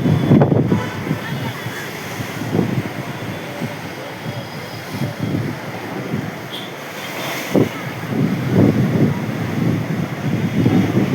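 Sea waves splash and surge near the shore in a loud, continuous rumble buffeted by wind noise, with periodic swells and distant voices mixed in.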